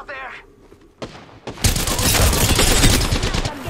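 Dense, sustained gunfire from a shooter video game, Apex Legends, with rapid overlapping shots at loud volume that begin abruptly after some quieter effects and a short burst, continuing steadily to the end.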